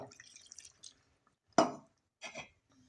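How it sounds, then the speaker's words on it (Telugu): A glass of water splashes into a pan of chicken curry in a few short, close wet bursts separated by near silence. "ఒక గ్లాస్ వాటర్ పోసేసేసి ఒకసారి కలిపిన తర్వాత మూత పెట్టేసేసి"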